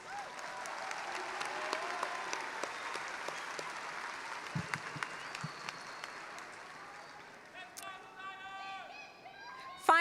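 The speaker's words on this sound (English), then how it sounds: "Let's give him another round of applause." A crowd at a Renton Technical College commencement keeps up a steady round of applause with occasional shouts, tapering slightly near the end as a voice begins speaking.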